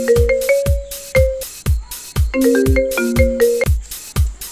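A mobile phone ringtone plays a loud, bright electronic melody of quick tonal notes with sharp plucked attacks, two phrases separated by a short pause, with no voices over it.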